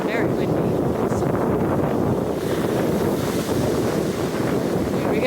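Strong wind buffeting the microphone outdoors on a coastal walk by the water, a loud continuous rumbling roar with no pause throughout.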